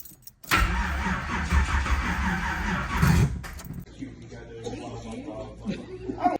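A race car engine cranks and catches, then roars loudly and unevenly for a few seconds before dropping to a rough, lower idle.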